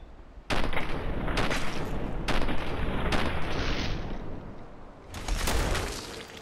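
Repeated gunshots from a firearm in the video game Fallout 4, a string of loud, dense bursts spread across several seconds with brief lulls between volleys, no talking over them.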